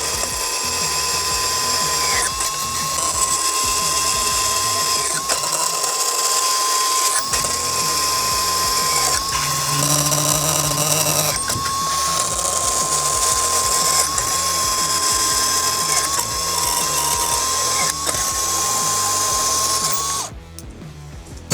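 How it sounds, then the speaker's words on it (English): A compact cordless bandsaw fitted with a brand-new blade cuts decking material in one loud, steady run of motor whine and blade hum lasting about twenty seconds, then shuts off abruptly. "Let's make some cuts with it and see how well it cuts and how it feels in my hand."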